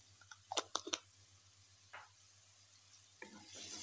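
Chopped onion softening in a pan with a little pepper and salt: soft, faint sizzling with a few clicks and scrapes of stirring in quick succession, then a quiet hiss rising at the end.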